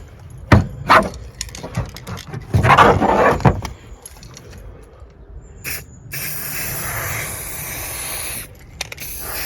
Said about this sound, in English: it's a lot easier and quicker to do it with spray paint.